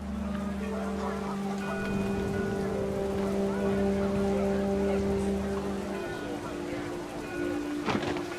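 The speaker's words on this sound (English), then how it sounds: "Rain came down in buckets then" Heavy rain in What Remains of Edith Finch, a dense steady patter and hiss of downpour under a narrator's voice, with a low drone that fades partway through.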